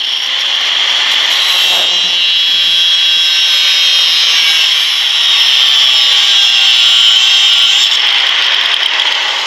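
A power tool cutting a notch into homemade bending pliers, a loud continuous high-pitched metal grinding whine that holds steady from start to finish, close, with no talking.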